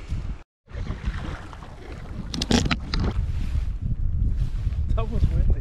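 Wind rushing over open water during a solo canoe trip in Agder, Norway, loud microphone buffeting with a brief drop near the start, then rising gusts and some splashing and voice sounds.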